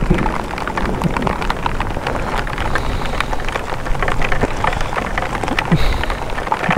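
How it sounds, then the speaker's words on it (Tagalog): Steady rain patters on a mountain trail in Benguet, a dense, constant shower of drops with occasional louder splats close by. "kasalukuyan na kaming inabutan ng ulan dito sa daan"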